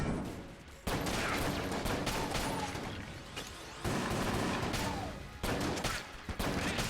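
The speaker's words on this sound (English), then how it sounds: "It doesn't matter how many times I shoot." Rapid, dense gunfire from infinite-ammo shooting at enemies in the Enter the Gungeon video game, loud continuous bursts of fusillade broken by short pauses, with occasional booms of exploding bullets.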